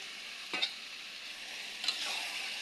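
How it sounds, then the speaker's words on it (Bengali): Fried meat and potatoes added to a spice masala in a pan for biryani keep up a soft, continuous frying hiss, broken by two short stirring scrapes. "আমার মশলাটা কষানো হয়ে গেছে, এখন আমি ভাজিয়ে রাখা মাংস আর আলুটা দিয়ে দিলাম"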